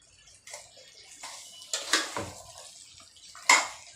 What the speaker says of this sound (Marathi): पाणी घालून आता थोडा वेळ ठेवते शिजत